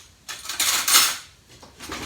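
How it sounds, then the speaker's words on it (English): A spoon scrapes cornbread muffin batter from a bowl in a few quick, close strokes of clattering and scraping. "Let me get a spoon to get the rest of that."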